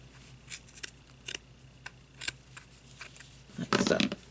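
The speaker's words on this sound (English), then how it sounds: "now I'm going to cut this piece off" Scissors cut a piece off a sock snowman filled with rice. Several light, close snips are spaced irregularly, followed by a louder, longer cutting and rustling burst near the end.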